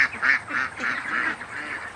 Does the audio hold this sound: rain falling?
no